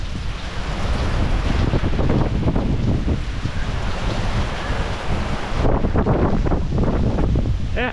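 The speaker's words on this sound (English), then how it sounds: "wind's coming head on from this direction, from the east." Hurricane Milton's wind blasting across a Florida shoreline, a loud continuous roar with gusting surges and crashing surf, buffeting the microphone throughout with a short lull before it rises again.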